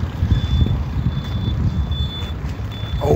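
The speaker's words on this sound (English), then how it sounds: "I keep walking toward the traffic noise." Truck reversing beeps repeat at an even pace over a steady bed of nearby road traffic rumble, loud and continuous, with no voices.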